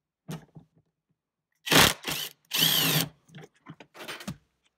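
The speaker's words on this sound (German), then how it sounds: "Hier drunter befindet sich noch eine 17er Schraube. Die lösen wir auch einmal." Loosening a 17 mm bolt on a VW Golf 4 seat belt mount with a power tool: several short loud bursts of whirring and rattling, separated by pauses and smaller clicks, close by.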